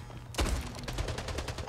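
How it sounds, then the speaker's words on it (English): Splitgate gunfire: after a brief quiet moment, a sudden automatic burst erupts, a rapid, evenly spaced string of close, punchy shots lasting over a second. "Getting shot from behind."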